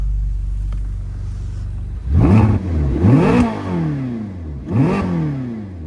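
A 2010 Ferrari California's naturally aspirated V8 idles low, then is revved hard three times in quick bursts, each roar rising sharply and falling back, loud and close.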